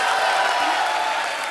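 Studio audience at a Hindi comedy talk show giving loud, sustained applause and cheering to welcome a guest, a dense continuous wash of clapping with crowd noise.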